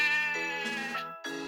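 A sheep bleats in a children's storybook scene on a railway track, a close, clear cry that wavers and then a second shorter bleat follows after a brief gap.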